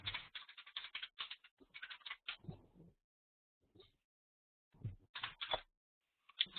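Bursts of quick clicking keystrokes on a Finnish computer keyboard, rapid runs of taps separated by pauses, close and fairly quiet in a still room.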